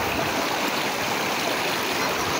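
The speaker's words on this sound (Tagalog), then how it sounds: "Ito yung ilog." A river in the rural Philippines flowing steadily nearby, a dense, continuous rushing wash of water that stays even and unbroken throughout, with no voices.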